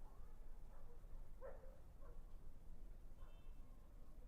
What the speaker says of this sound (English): I just heard a dog bark.